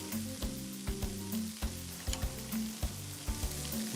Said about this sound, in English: Arrange the ham slices on the grill and grill until crispy and brown on both sides.